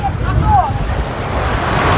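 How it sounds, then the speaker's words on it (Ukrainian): Sea waves rush and wash steadily at the shore under strong wind buffeting the microphone, with a few faint whistling cries of gulls above the roar. "Волни йдуть, дивіться. Хвилі, хвилі."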